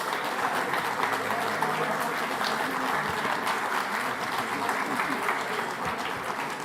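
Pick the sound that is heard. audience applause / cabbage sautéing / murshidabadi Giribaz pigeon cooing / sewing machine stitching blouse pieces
audience applause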